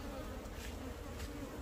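Dense, steady buzzing of many honey bees close by at the hive, a continuous drone filling the whole moment with no talk.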